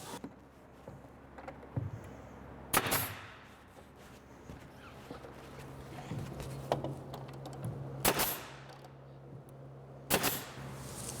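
A nail gun fires nails into base trim on a cabinet face frame in four sharp, isolated pops spaced a couple of seconds apart, over quiet room noise and light handling sounds.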